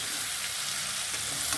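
Chopped onions frying in a hot pan make a dense, continuous hiss and sizzle, heard up close, with soft stirring scrapes throughout the brief moment.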